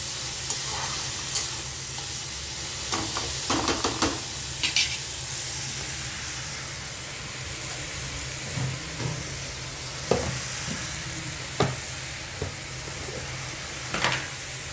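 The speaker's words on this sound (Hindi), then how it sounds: "तो गाइस इन सब्जियों को जो है अच्छे से पका लेंगे।" Vegetables for bread poha fry and are stirred in a pan: a steady, close sizzle runs throughout, broken by occasional scraping and knocking of the spoon against the pan, with no one talking.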